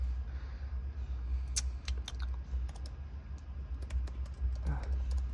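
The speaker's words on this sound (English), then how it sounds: "I'm gonna type something." Close keystrokes on a Razer Blade Pro 17 laptop keyboard, light irregular clicks tapping out a short burst of typing over a steady low background hum.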